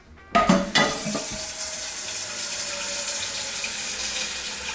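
Water gushes from a kitchen tap into a pot. It starts with a few clunks of the pot being set in place, then a loud, steady splashing stream runs continuously close by.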